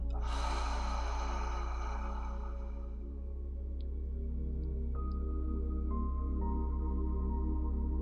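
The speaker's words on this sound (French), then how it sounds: "prenez une profonde inspiration par le nez et expirez par la bouche" A single deep breath drawn in through the nose and let out through the mouth during a guided mountain meditation, close and soft, with a brief whoosh over a steady low tonal hum.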